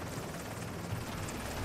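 Helicopter in the video game The Division 2, a continuous low rotor drone with steady rumbling throb, loud and constant with no pause.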